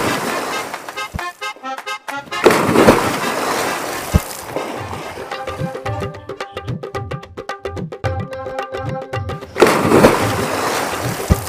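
Water splashes as someone jumps into a pool: two loud, broadband bursts of splashing and sloshing water, one early and one near the end, with music playing in between.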